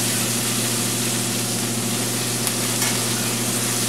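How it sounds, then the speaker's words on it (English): Onions softening in a pot over the browned bits left from searing short ribs, giving a steady, even sizzle that runs unbroken from start to finish with no voices. "So let's get these onions softened."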